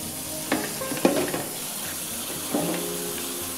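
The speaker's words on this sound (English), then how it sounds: "I'm gonna wash this off, rinse it off before I start cutting it off." Tap water running steadily over okra being rinsed, close and continuous, with a few brief splashes and knocks as the pods are handled.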